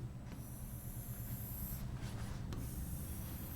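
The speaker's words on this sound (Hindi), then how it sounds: "इसको ठीक से लिख देता हूँ मैं आपके लिए।" A pen writing by hand on a surface while drawing out a chemistry periodic table, soft scratchy strokes in short bursts over a faint steady hiss, quiet and close.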